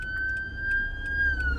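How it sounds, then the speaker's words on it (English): An ambulance siren passes nearby, a loud, steady high electronic tone that holds for the whole stretch over low traffic rumble, with no talking. "I'm getting out of the way of the ambulance."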